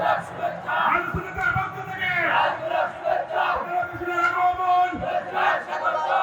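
Large crowd at a Bengali Islamic sermon gathering shouting the takbir response in unison, repeated loud massed voices rising and falling in waves, with a few low thumps.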